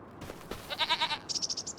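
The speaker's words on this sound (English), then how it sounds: "We've got 2 baby goats." Goats bleat in Farming Simulator 25, a baby goat among them, in a short run of repeated nasal calls. After a couple of soft thumps, two bursts of pulsing bleats follow each other closely and sound moderately loud.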